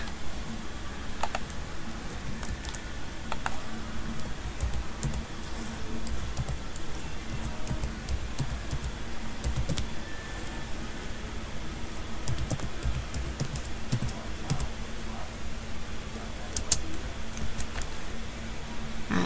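Steady, rapid typing on a computer keyboard runs continuously with many small key clicks over a noisy hiss-filled background, heard close with no talking.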